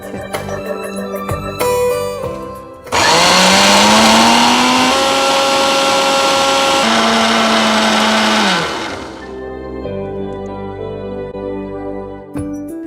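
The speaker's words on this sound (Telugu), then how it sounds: "ఇప్పుడు మిక్సీ పట్టేసుకుందాం." A kitchen mixer grinder grinds soaked ragi (finger millet) batter with a little salt, a loud steady whine that rises in pitch and runs for about six seconds before spinning down, with no voices over it.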